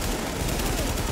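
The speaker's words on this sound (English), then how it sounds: "And this AK melts people." Rapid automatic fire from an AK rifle in The Division, a short, loud, dense burst of shots with no pauses and no talking.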